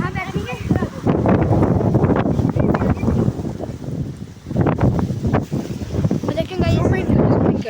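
Strong, gusty wind buffets the microphone outside Hyderabad city during a storm, roaring in loud surges with a short lull partway through, while someone talks over it.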